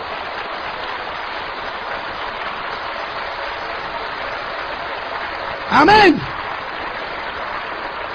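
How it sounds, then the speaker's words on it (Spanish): A church congregation at a deliverance service applauds in a steady, sustained wash of clapping. One voice briefly rises over it near the end. "Vamos a darle un fuerte aplauso a Jesucristo."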